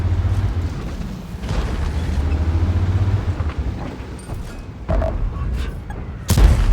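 Centurion 7/1 tank in a video game firing a 105 mm HESH round: a loud deep boom near the start, rumbling engine noise after, and a second sharp blast near the end.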